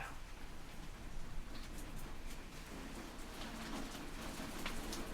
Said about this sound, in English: That is some good rain.